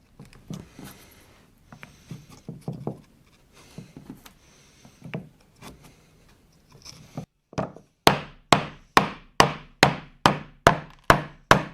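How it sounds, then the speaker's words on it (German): Thin 4 mm walnut plates hammered into slots in wood, starting with softer scattered taps and shuffling, then a run of about eight loud, evenly spaced sharp blows near the end. "Ich habe jetzt 4 mm Nussbaumplättchen geschnitten und die klopfen wir jetzt da rein."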